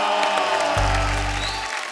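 An audience claps loudly in a stage show hall as a singer is welcomed on stage, a dense burst of applause with a low sustained tone underneath, lasting about two seconds.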